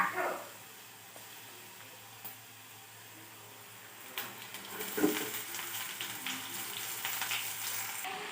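Washed amaranth leaves tipped into hot oil with tempering spices, setting off a sudden louder sizzle and rustle midway after a quieter frying hiss, close by.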